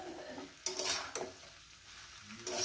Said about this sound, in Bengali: এটা সুন্দর করে মিনিমাম 7 থেকে 8 মিনিট ভেজে নেব